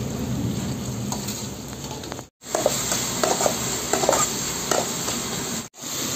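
Onions, chilli and tomato frying in a pan, a continuous close sizzle with clinking stirring strokes, briefly interrupted twice.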